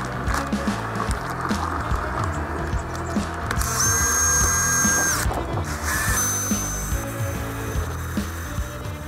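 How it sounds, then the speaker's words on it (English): A power drill with a paddle churns a small batch of thin-set mortar for wet shimming backer board, a steady close grinding whir with gritty scraping throughout and a higher whine rising in the middle. "mix up a small portion of thin set"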